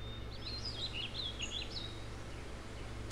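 Ambient birdsong from the Fiesta Online video game environment, a short series of faint, warbling chirps over a low steady background hum.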